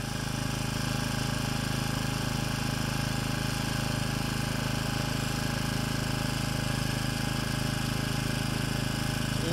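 An exhaust-gas powered ram-air turbine, retrofitted and running slightly out of balance, gives a loud, steady droning whine with a constant mechanical vibration and no pauses.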